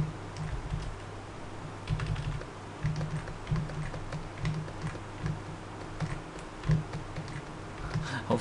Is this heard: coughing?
no